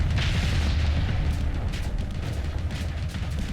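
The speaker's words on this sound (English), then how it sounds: "Torpedo out." In the Starsector space combat video game, a torpedo launch and explosion make a sustained, heavy low rumbling boom that fills the clip, with no speech.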